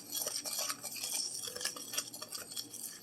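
A utensil stirs spices in a bowl, quick clinking and scraping taps against the dish, close and fairly quiet, repeating irregularly without speech.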